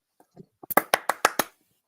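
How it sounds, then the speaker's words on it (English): Six or seven sharp hand claps in a quick, slightly uneven burst, close and fairly loud, following a couple of faint soft taps and with no talk over them. "We gave you a claps."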